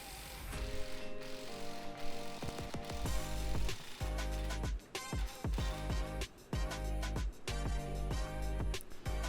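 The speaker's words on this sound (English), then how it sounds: "you can use your 3-legged puller now to pull that flange off the end of the drive shaft" Three-legged puller drawing the flange off a Nissan S13 Silvia/180SX driveshaft during a centre bearing replacement, giving close metallic clicks, ratcheting and creaking strain in uneven bursts with brief pauses.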